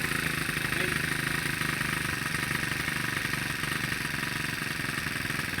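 Honda GX35 small four-stroke engine, left stored for three months, running unevenly, a continuous close buzzing drone with rapid rattling pulses and slight surging, no talk.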